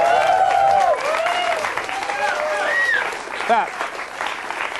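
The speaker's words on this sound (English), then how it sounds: "Give Helen a nice round of applause." A television talk-show studio audience applauds steadily for several seconds, with a voice speaking over the clapping.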